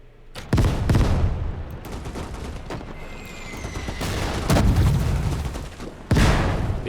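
Mortar fire in the WW2 Eastern Front game Gates of Hell Ostfront: several loud, sharp booms at irregular intervals ring out over a background of distant battlefield gunfire.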